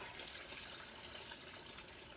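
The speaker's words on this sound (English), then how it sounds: "see how clear the water is running out here" Rinse water runs steadily while raw fleece is washed. The flow makes a soft, continuous splashing hiss with no breaks and no voices.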